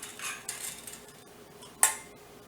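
Blueberries being gently stirred into jelly in a bowl with a utensil, giving soft intermittent clinks and scrapes, with one sharp clink near the end; no one talks.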